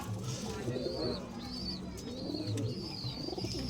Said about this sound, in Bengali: দর্শক দেখতে পাচ্ছেন খুবই সুন্দর কবুতর